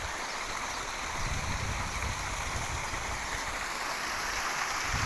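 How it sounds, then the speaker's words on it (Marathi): Water pours steadily over a brimming village weir, a continuous close rushing wash with no breaks and no voices. "आणि हा बांधारा असा वाहतोय मस्तपैकी"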